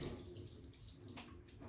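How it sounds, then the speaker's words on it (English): A Rancilio Silvia espresso machine flushes water from its boiler after steaming, a very faint, steady trickling splash running through the whole stretch. "flush and cool the boiler after you're done with steaming"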